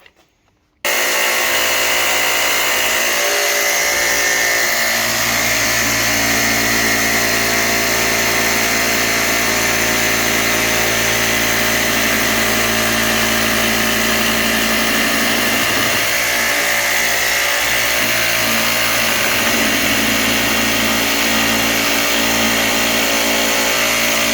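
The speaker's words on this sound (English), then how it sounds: "as the blade cuts through the material, it's trying to force the laminate away from the jigsaw" A jigsaw fitted with a reverse cut, downward-cutting blade saws through laminate with a loud, continuous buzzing rasp that holds steady throughout after a moment of silence at the start.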